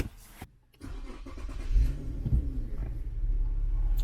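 A 2008–2014 Infiniti EX engine cranks and catches after a brief silence, then settles into a steady low idle rumble that swells slightly, close and alone.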